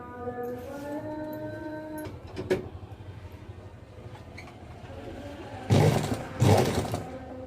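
A sewing machine stitches piping, giving a brief whirring run early on, a few clicks and handling sounds, then two louder bursts of close mechanical stitching near the end.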